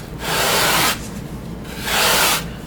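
Sandpaper rubs a 45-degree chamfer into the side of a balsa wood strop in two quick, loud, close back-and-forth passes with a short gap between them.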